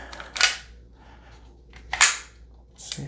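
FN Five-seveN pistol with no magazine inserted during a function check, three crisp mechanical clicks and snaps close up, spaced over a few seconds with no talk between them.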